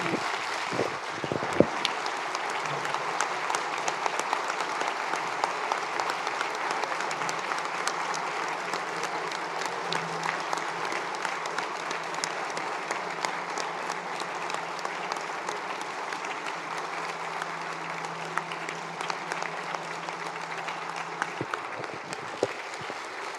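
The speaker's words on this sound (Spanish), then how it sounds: "darle un fuerte aplauso porque marcó la diferencia" Sustained applause from an audience at a labour event about strikes fills the room for over twenty seconds, dense and steady, with a faint low hum running beneath it.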